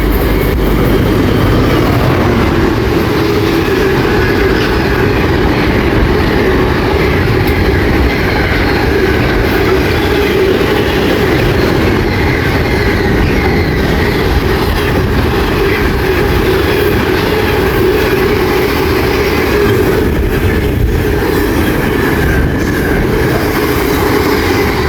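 A GWR Class 66 diesel locomotive hauls a container train through a main-line station, its engine drone and the clatter of wagon wheels loud and continuous, with faint squeals rising now and then.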